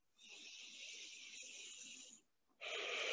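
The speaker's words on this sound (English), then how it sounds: "Breathing." Breathing during a stretching exercise, with a long, faint, hissing breath, a short pause, then another breath, close to the mic, with no talking.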